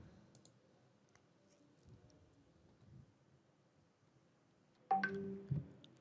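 A quiet computer mouse click sounds near the end amid faint room noise, followed by a brief electronic tone.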